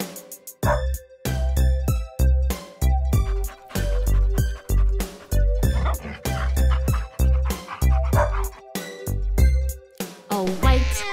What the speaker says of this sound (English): A black dog barks real loud.